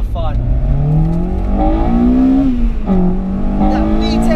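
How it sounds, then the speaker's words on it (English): A Honda engine with a Grupp M exhaust revs hard through its VTEC crossover from inside the car, its pitch climbing steadily and loudly, with brief dips at gear changes. "That VTEC crossover is just so loud with that Grupp M"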